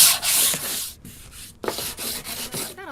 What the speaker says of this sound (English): I'm taking some 220 grit sandpaper and just kind of giving it a quick